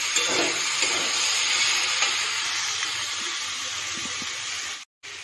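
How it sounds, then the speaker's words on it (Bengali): Chopped tomato frying with salt and turmeric in a pan, giving a steady, close sizzle and hiss that holds throughout with no talking, cutting out briefly just before the end. "এর মধ্যে নুন আর হলুদ দিয়ে বেশ কিছুক্ষণ ভাজবো, যতক্ষণ না টমেটোটা"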